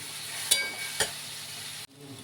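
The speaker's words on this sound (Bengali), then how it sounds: "একসাথে এগুলো কষিয়ে নেব ভালো করে।" Spice masala and chana dal sauté in a pan with a steady, soft sizzle, two sharp clinks of a spoon against the pan, then a brief dip before the frying hiss resumes.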